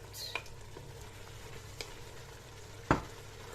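Carrots and herbs stirred in a cooking pot for a Kabyle semolina dumpling dish, giving a quiet sizzle with a few faint utensil scrapes and one sharp clink near the end.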